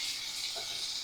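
Mutton with sour yogurt and spices sautés in a pan over a high gas flame, giving a faint, steady hiss of sizzling throughout.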